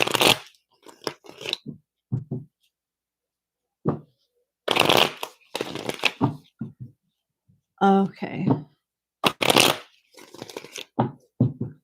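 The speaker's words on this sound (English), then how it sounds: "One more shuffle." A tarot deck is shuffled by hand in close, crisp bursts of riffling card noise, with a person speaking briefly in between.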